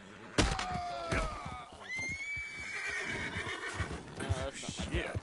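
A horse in a PS4 video game neighs and whinnies loudly, with clip-clopping hooves and game ambience, while people talk over it.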